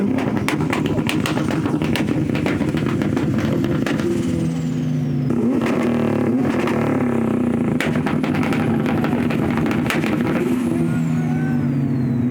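A drift car driven by French drift champion Jason Bannett at a car show, its engine revving hard and continuously with rough, loud roaring and sharp pops. The sound carries over a noisy outdoor crowd.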